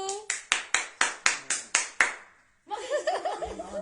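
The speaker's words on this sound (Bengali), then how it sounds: "একটা হাততালি দাও" Nine evenly spaced hand claps ring out sharply at a birthday song, then stop, followed by people talking and chuckling nearby.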